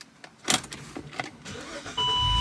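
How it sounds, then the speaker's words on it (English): A Saab car's engine starts after a battery replacement: a few clicks and key sounds, a cranking whir, then the engine catches and settles into a steady close idle. "and start the car"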